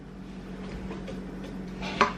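A spoon mixes a teaspoon of vanilla into chocolate cupcake batter in a bowl by hand, soft wet stirring with a sharp clink of utensil against the bowl near the end.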